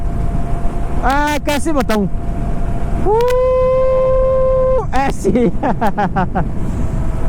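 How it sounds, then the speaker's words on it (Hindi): Knobby off-road tyres on a Honda H'ness CB350 motorcycle give a steady broadband road roar while riding, running continuously beneath someone speaking throughout. "तो एक नॉइस आ रही है। टायर ऐसे जब रोड पे चल रहे ना"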